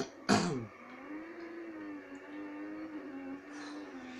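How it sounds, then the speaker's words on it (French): A single cough or throat clear bursts out loud and close near the start, followed by a low steady hum for the rest of the clip. "J'ai envie de tousser."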